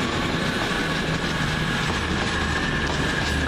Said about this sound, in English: here goes the 12:16 cross country service from Manchester Piccadilly to Bristol Temple Meads via Birmingham New Street